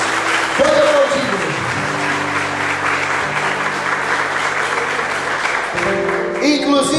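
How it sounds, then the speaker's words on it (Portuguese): Applause from a church audience during a Catholic revival sermon, steady dense clapping that fills the clip while sustained organ or keyboard chords and occasional voices carry on underneath. "Pode aplaudir, pode aplaudir."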